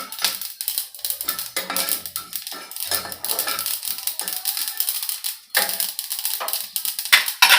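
Garam masala spices roasting dry in a hot pan, giving off a dense run of sharp, close crackles and pops that keep going with brief lulls, with no talk.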